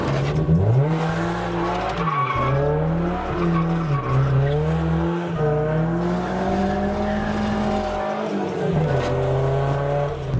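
A Nissan Silvia S14 drift car drives loudly and up close, its engine note rising and dipping through repeated throttle changes while the tires squeal and skid almost continuously.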